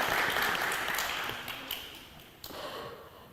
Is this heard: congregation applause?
yes